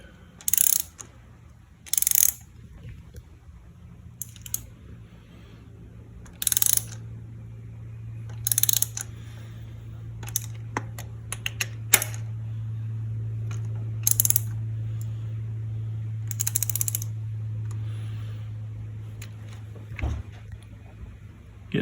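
A ratchet wrench clicks in short bursts while undoing a socket on a Fox Body Mustang, with sharp, close ratcheting spurts separated by pauses over a low steady hum.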